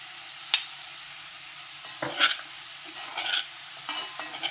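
Chicken and vegetables with spices sizzle in butter while being stirred, giving a soft, steady frying hiss broken by a few scraping clinks of the spoon against the pan.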